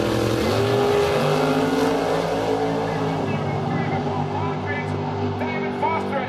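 Drag racing cars in the Sportsman final launching down the strip, a loud continuous roar of engines with layered harmonic tones throughout, while a commentator talks over it.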